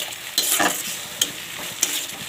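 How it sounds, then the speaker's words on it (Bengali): Loitta fish is stirred in a pan while its water cooks off, a low background sizzle broken by three distinct scraping strokes of a spatula, close and fairly loud. "এটাকে নাড়তে নাড়তে একদম লটিয়ার জলটা যেন একদম শুকিয়ে যায়।"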